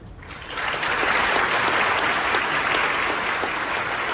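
An audience at a company's 25th-anniversary ceremony claps for a newly appointed section manager. The applause rises quickly after a brief quiet start, then holds as a full, dense round of clapping filling the hall.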